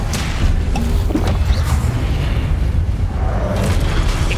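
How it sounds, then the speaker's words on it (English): A spell blast cast in the Hogwarts Legacy video game: a loud, booming magical impact with crashing bursts, repeated hits layered over dense rumbling combat noise, no voice. "Expelliarmus!"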